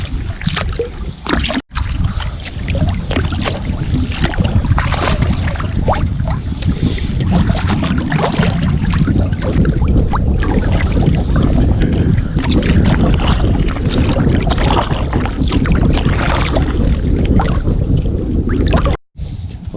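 A small boat trolls on a lake, its motor droning continuously up close under heavy wind buffeting the microphone, with water movement and a couple of brief dropouts.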